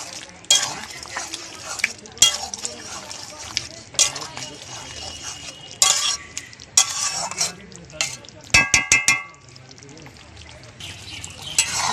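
A spoon stirs sukto, a Bengali vegetable curry, in a pan with a series of separate scraping strokes against the pan over a soft simmer, some of them sharp and close.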